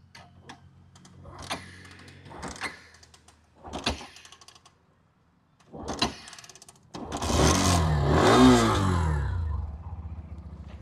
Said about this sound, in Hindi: मैं आपको लाइव प्रूफ दिखाता हूँ स्टार्ट करके